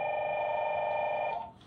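A telephone rings indoors with a steady, sustained electronic tone that fades out near the end, close and clear, with no talk over it.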